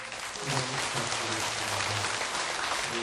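A crowd at a Buddhist temple ceremony claps steadily, a dense, even wash of applause sustained throughout without speech.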